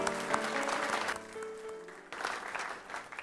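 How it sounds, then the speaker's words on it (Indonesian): A studio audience on an Indonesian television talk show applauding, a steady wash of clapping under lingering tones that thins briefly and then swells again, moderately quiet overall. "Kita beri tepuk tangan buat Bu Purnama."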